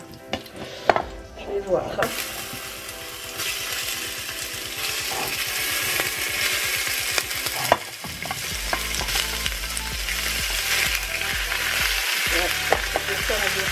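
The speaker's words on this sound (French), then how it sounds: "Je vais remettre un petit peu d'huile du coup pour faire revenir ma viande." Beef browns in oil inside a Cookeo multicooker, making a loud, continuous sizzle with the scrape and clatter of a stirring utensil. A voice speaks briefly near the start.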